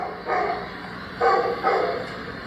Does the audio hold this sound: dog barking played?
yes